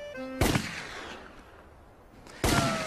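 Two sharp biathlon rifle shots at an Olympic shooting range, about two seconds apart, crisp and fairly close with a short decaying tail.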